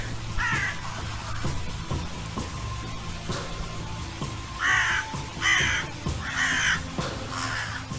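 Crows caw several times, harsh and fairly close, first a lone call and then a run of four caws, with soft clicks between, harassing a fox in the snow.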